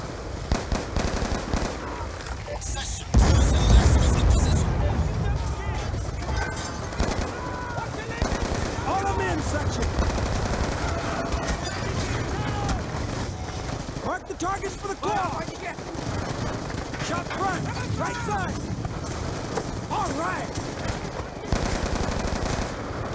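Sustained machine gun cover fire in the Call of Duty Black Ops 2 video game, with dense, continuous bursts and distant blasts during a street push, while voices talk over the gunfire.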